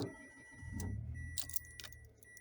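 A key turns in the ignition of a 2024 Mitsubishi Mirage, giving a brief, faint metallic jingle and click up close in a quiet car.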